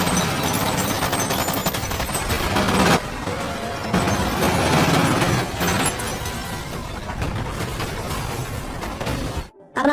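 Rapid machine-gun fire in a gang battle film, dense loud bursts with crashing impacts that run almost nonstop, pausing briefly before cutting out near the end.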